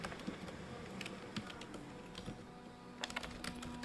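Computer keyboard typing out Python code: a quick run of light, close key clicks, quiet and steady, with no talking.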